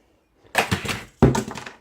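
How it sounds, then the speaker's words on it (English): A toy die-cast monster truck from a Zuru Metal Machines Road Rampage playset smashes into a toy truck, giving two sharp clattering plastic-and-metal crashes close by, each with a short rattling tail, with no talking. "that smashed the truck up"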